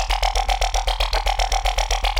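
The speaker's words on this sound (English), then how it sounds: "that created this legendary sound of the Belgium laser." Belgium laser drum and bass synth, a loud, wiggly, buzzing tone pulsing in a fast, steady repeating rhythm throughout with no voices.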